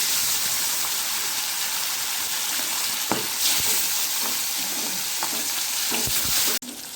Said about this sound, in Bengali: আমি এবার একটা একটা করে মাছগুলোকে এই গরম তেলে ভেজে নেব।